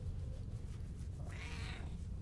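A cat meows once, a short rising call in the middle of the clip, heard close over a low steady room hum, with no talking.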